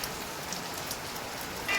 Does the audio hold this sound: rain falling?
yes